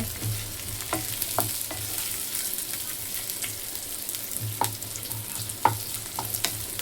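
Chicken frying in a pan over high heat and being stirred, a continuous sizzle punctuated by scraping, knocking strokes of the utensil at irregular intervals, close up and with no talking.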